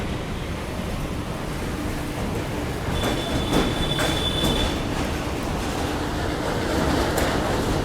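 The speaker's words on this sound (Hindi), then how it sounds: "अभी जो अपनी ट्रेन है वो जा रही है लौ पुल के ऊपर से, मतलब जो आयरन ब्रिज है उसके ऊपर से निकल रही है।" Amrit Bharat Express on the Delhi–Gaya route crossing an iron bridge: a loud, steady rumble of wheels on the rails with a clattering roar, broken by short metallic squeals midway, heard from on board with no voices.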